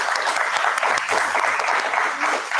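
A conference audience at ACONF 2022 in New Delhi applauds to welcome Pramod Varma for a fireside chat, a loud, dense and continuous clapping crowd that stays even throughout, with a brief low voice underneath.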